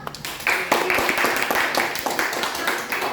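Students in a classroom clap for a presenting group, making a burst of quick, fairly close handclaps with a loose rhythm that carries on for about three seconds.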